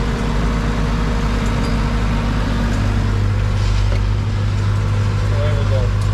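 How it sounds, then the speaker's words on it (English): A tractor engine runs at a steady, raised rev of about 2000 rpm while raking grass on a farm, a constant loud drone with a voice talking over it. "We rev it up to just about the 2000 mark."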